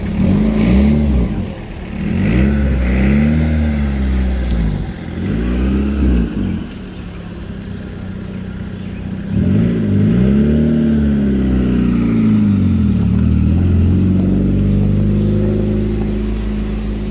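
A turbocharged EG Honda Civic engine revs hard while driving, with repeated rising and falling surges of loud, close engine tone broken by brief gear-change dips, alone without talk.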